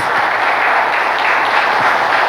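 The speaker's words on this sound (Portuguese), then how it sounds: "Vamos aplaudir ao Senhor nosso Deus" A church congregation applauds together in a worship service, a broad, continuous wash of many hands clapping at an even level throughout.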